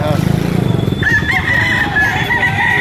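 Several roosters crow loudly and overlap, with clucking chickens and crowd voices talking in the background at a busy outdoor poultry market fair in Padre Garcia.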